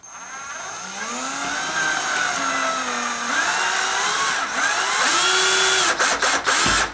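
A power drill whines and drives a small self-tapping screw into a stucco wall, pitch rising and dipping as it bites, then a few sharp stutters at the end, close by.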